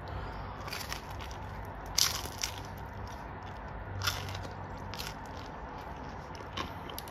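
Crunchy crust of a Roman-style chorizo pizza being bitten and chewed, a few crisp crackling bites spaced across the clip against a soft background hiss, close and fairly quiet, with no talking.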